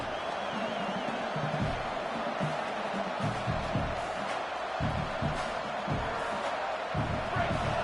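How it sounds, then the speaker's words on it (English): Dense, steady roar of a football stadium crowd during a college game, loud and continuous throughout with swelling noise and scattered shouts, no clear speech. "This crowd trying to make life miserable for this offense."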